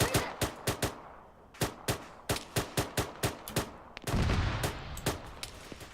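Bursts of rifle fire in the military shooter Arma 3, a dozen or so sharp close shots in uneven rapid rhythm, then a louder rumbling stretch of heavier fire with more cracks over it, no talking.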